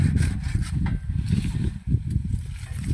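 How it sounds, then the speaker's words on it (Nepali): A hand saw cuts through a large tree branch outdoors, its strokes a steady, close, rasping back-and-forth of wood grinding under the blade with no talk. "ठुला आँगालाई आराले यसरी काट्नु पर्यो"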